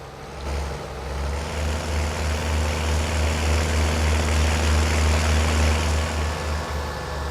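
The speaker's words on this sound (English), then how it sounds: "Oh my word, this thing sounds awesome. See, that's why I love old tractors." A loud old tractor engine in the Farming Simulator 19 video game runs at a steady, deep rumbling idle, close and continuous throughout with no speech.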